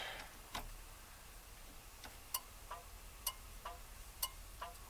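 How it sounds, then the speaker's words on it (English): Turn signal flasher of a 1959 Mercury Monterey that sat unused for a decade, clicking in a steady rhythm of sharp, faint ticks about every second inside the quiet cabin, with no talking. "Turn signals."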